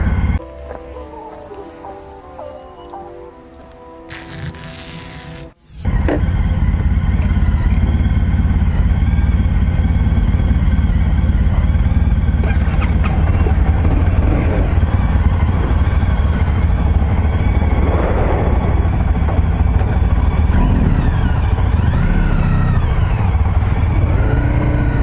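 A 2015 Honda CBR300R starts out with a rider's voice over a quieter background, then its engine note roars up loud and steady from wind and riding, holding a continuous drone with small shifts in revs.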